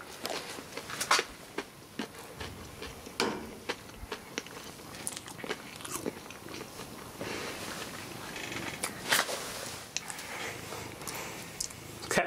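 A domestic cat purrs close by in a cluttered workshop, a soft continuous rumble under scattered clicks, handling noises and small knocks throughout.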